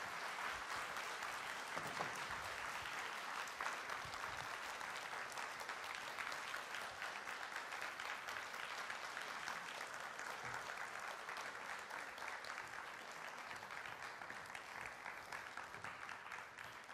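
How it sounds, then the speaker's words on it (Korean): A church congregation applauds steadily as a visiting family comes forward, a dense, sustained clapping that holds evenly for the whole stretch. "나오실 때 뜨거운 박수 부탁드릴게요"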